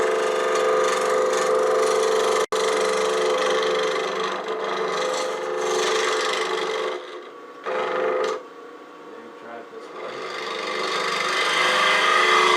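A turning tool hollows cherry burl wood on a lathe, a continuous harsh scraping hum that dips briefly and surges back, with a sharp click early on.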